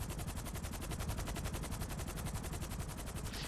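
Rapid automatic gunfire in a FiveM GTA roleplay game, a dense, continuous stream of evenly spaced shots lasting the whole stretch, loud and close, with no voices over it.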